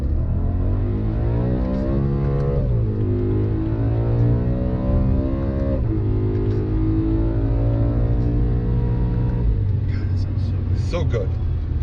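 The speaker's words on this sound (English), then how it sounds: "Let's do an acceleration run here." A 2011 BMW E90 M3 accelerating hard, its engine note climbing loudly and close through several gears with brief dips at each shift.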